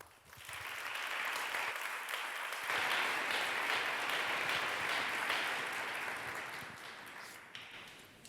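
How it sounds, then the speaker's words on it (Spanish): An audience at a book colloquium bursts into sustained applause, a dense wash of many hands clapping that swells and holds steady for several seconds before tapering off, with no talking over it. "Pido un aplauso para él."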